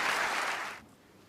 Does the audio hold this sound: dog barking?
no